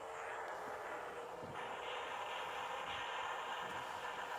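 A voice imitates an airplane engine for a dog pretending his doghouse is a World War I plane, a steady, droning hum that holds at even loudness for several seconds.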